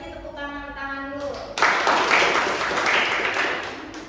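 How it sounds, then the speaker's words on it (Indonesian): Classroom children applauding during a lesson: after a teacher's voice, a burst of loud, dense clapping from many hands starts abruptly and continues steadily, fading slightly toward the end. "Kasih tepuk tangan dulu."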